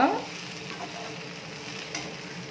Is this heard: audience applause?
no